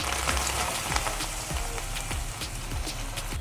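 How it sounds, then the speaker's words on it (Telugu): Gongura leaves frying in a hot pan for a red chilli gongura pickle, a soft, steady crackle with scattered sharp pops and ticks, close but fairly quiet, with no talking. "ఇప్పుడు మనం రెడీ చేసుకొని పెట్టుకున్నాం కదా గోంగూర అంతటిని ఇందులో వేసుకుందాం"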